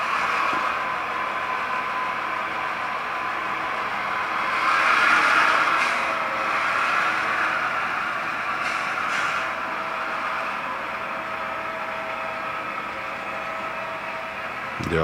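Several model B&O GP38 diesel locomotives fitted with Soundtraxx Tsunami 2 sound decoders back up together, giving a steady droning engine hum with a brief swell in the middle and no talking.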